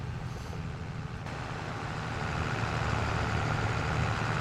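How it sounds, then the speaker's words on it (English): A Fastrac tractor engine in Farming Simulator 22 drones steadily, a dense close rumble that builds slightly louder partway through, with no talk over it. "I do like the sound of this fast track."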